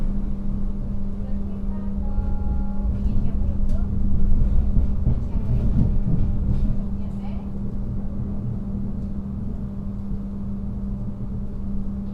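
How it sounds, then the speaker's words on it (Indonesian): Sawunggalih executive passenger train pulling into Kebumen station, a steady low rumble with a sustained hum and faint squeals, moderately loud and continuous, with voices murmuring nearby. "Kereta api Saunggali yang saya naiki telah tiba di stasiun Kebumen."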